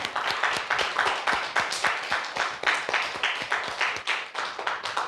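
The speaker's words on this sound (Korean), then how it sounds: "주님의 그 크신 사랑에 영광의 박수 올려드리기를 축원합니다" A church congregation at a Christmas thanksgiving service claps together in a brisk, steady rhythm, with dense, evenly spaced handclaps sustained throughout.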